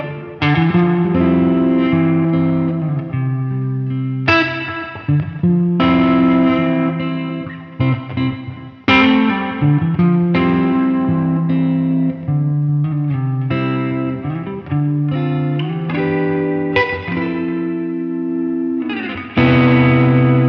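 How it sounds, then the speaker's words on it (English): PJD Carey Standard electric guitar played through effects with distortion and chorus, sustained chords and ringing notes in phrases with brief gaps, full and loud, no talking. "this guitar, because of the tension of the scale length, will just make the notes sound full and bloomy"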